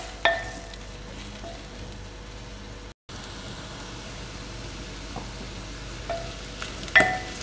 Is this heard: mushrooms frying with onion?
yes